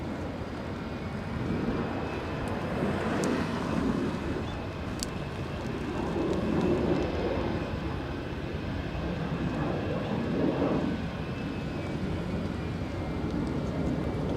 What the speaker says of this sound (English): Delta is landing up